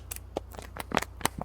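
Rapid irregular rattling and knocking as small objects tumble inside a shaken box, a quick series of clattery hits close by.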